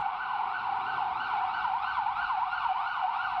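A police-escorted cash convoy pulls up to the main gate of the National Bank of Poland on Świętokrzyska Street in Warsaw, its siren wailing in a steady, continuous up-and-down sweep, loud and close with no speech.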